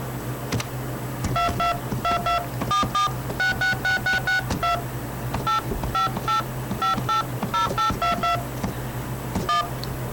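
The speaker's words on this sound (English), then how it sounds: "I can play a song on the phone." A melody is tapped out on a telephone keypad as a quick sequence of steady dial tones, some repeated rapidly, others held slightly longer, over a low constant hum.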